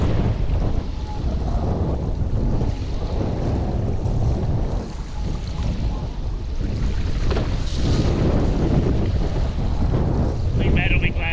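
Strong wind roars across the microphone during a foil downwind run on the water with wind and tide together, a loud continuous buffeting rush with the wash of water underneath for the whole stretch.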